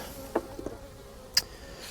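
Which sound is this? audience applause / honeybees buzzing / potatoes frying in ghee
honeybees buzzing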